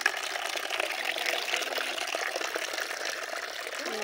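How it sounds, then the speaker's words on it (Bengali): Water poured while filling a container outdoors in the morning, a close, steady splashing gush that runs without a break. "এই যে সকাল সকাল জল ভরছি,"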